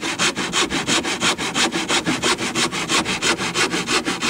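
Light wooden shed trim cut by hand with a saw, a steady run of quick back-and-forth rasping strokes, close and loud, with no talk.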